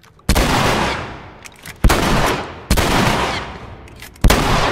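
Four heavy gunshots from The Last of Us video game boom out at roughly one-second intervals, each sharp loud blast trailing into a long decaying echo, with no talking.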